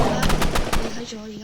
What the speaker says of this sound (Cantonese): 我哋而家就用手槍